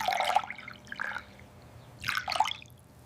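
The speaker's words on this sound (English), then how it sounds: "Pour the milk onto the plate." Milk pours onto a plate in a few short, gurgling splashes separated by pauses, close and fairly quiet with no one talking.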